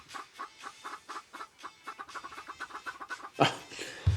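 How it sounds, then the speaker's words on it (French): Chickens clucking in a quick, rhythmic series of short close pecks of sound, fairly faint, ending with a louder rustling burst. "Les poulets."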